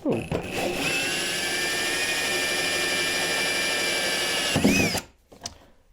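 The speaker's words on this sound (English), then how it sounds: "I'm using an 1 1/8 hole saw bit." A power drill whines steadily for several seconds as a 1 1/8 inch hole saw cuts through material, then winds down and stops abruptly.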